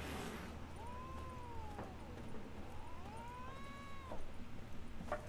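Cats meow in The Witcher 3: Wild Hunt. Several drawn-out, wavering mews with rising and falling pitch sit over a soft steady ambient bed, the last few calls a bit louder and closer.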